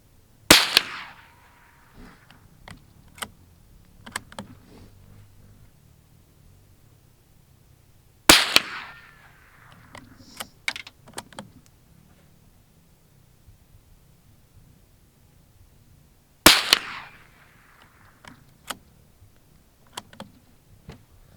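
Three sharp, loud shots from an old Wards Western Field .22 rifle loaded with Veloster ammunition, spaced about eight seconds apart, each with a short decaying tail over faint outdoor background.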